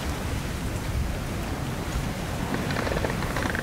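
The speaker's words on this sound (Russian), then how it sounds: "дождь на улице" Steady rainfall outside in the video game Metro: Last Light, a dense, constant hiss of falling rain with no pauses, with faint game sounds rising over it near the end.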